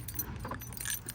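Keys jangle in a hand beside a car, a brief close metallic rattle over a low background rumble.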